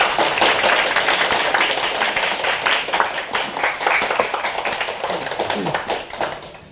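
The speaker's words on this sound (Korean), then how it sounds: "큰 박수 부탁드립니다." An audience in a presentation room gives loud, dense applause that begins strong and slowly tapers, with individual claps audible near the end.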